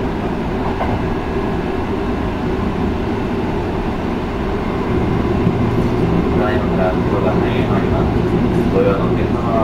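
Sanyo Electric Railway 5030 series electric train running between Shikama and Higashi-Futami, a steady close interior rumble of motors and wheels with faint rail clatter throughout, getting slightly louder in the second half.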